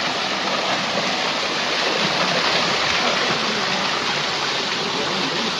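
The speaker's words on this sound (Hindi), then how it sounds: "और यहाँ पे इतना ब्यूटीफुल झरना है।" A waterfall at a herbal park pours in a loud, dense, unbroken rush of water close by, steady throughout without any voices.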